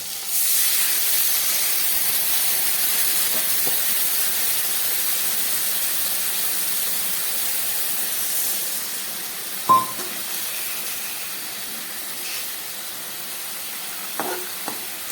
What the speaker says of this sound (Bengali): এবার দিয়ে দিচ্ছি এই মশলা ধোয়া জলটা।